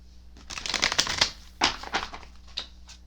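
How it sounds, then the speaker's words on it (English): Tarot cards being shuffled by hand, a series of quick crisp riffling bursts and soft slaps, close and fairly quiet, with short pauses between shuffles. "I don't remember if I shuffled it, so I'm going to shuffle it now."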